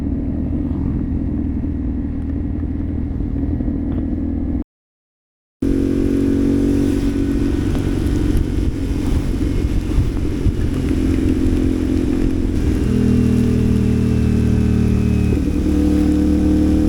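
A Honda PCX scooter on a break-in ride gives a continuous close engine drone with wind rush, broken by a short silent gap, then a steady hum that rises in pitch as it accelerates.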